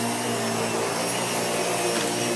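A central vacuum with a 1997 nozzle and motor hums steadily and loudly, a dense broadband whoosh with a constant motor tone running throughout and no talk.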